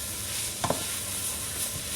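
Mutton curry sizzles steadily in a pan while being stirred, with a couple of soft scraping strokes over the constant frying hiss.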